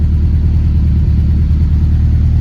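A 1996 Jeep Grand Cherokee ZJ with a 4-cylinder engine idles with a steady, deep, throaty rumble that stays even and close throughout, with no voices.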